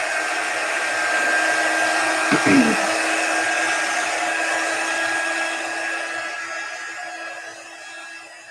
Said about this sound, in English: So I'm going to grab my drying tool.